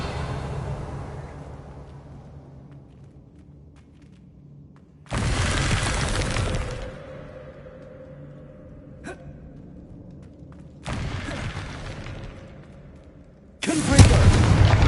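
Explosive Confringo spell blasts in Hogwarts Legacy: three loud, sharp bursts a few seconds apart, each followed by a short rumbling decay, with quieter ambience between them.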